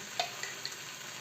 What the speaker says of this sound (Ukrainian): І знову так пересмажимо обсмажуємо